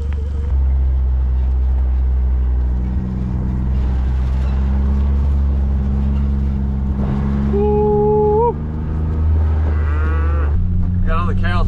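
A cow gives a single drawn-out moo partway through, heard over a steady low engine rumble and some faint voices, while cattle are being moved on a farm.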